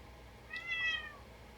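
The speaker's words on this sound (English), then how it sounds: "here comes the cat." A cat gives one short, faint meow partway through, heard indoors above a quiet steady background with no talk.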